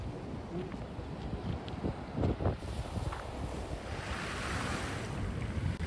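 Ocean waves break and draw back over a stony shore near the fishing spot at Cape Agulhas coast, a steady close wash of surf with a swell around the middle and rising hiss of receding water, plus wind buffeting the microphone.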